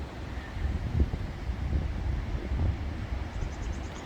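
Foehn storm gusts buffet the microphone along a riverbank in a low, rumbling wash with uneven surges and thumps, fairly quiet and with no one speaking.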